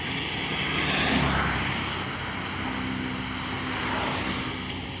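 A Kobelco SK200-10 excavator's diesel engine running smoothly, a steady broad mechanical hum with a faint whine that swells gently and fades, no one speaking.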